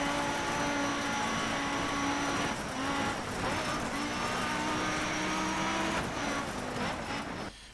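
A revving rally car engine in the video game DiRT 3 drones continuously with shifting pitch, loud and steady, with no pauses.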